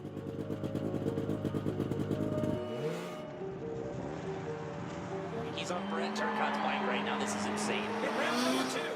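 Motocross motorcycle engine revving loudly and steadily during a failed jump attempt, the pitch dropping then climbing again, with other vehicle noise and voices underneath.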